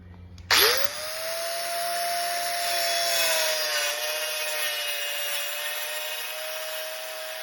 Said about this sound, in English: I'm using a Dremel saw.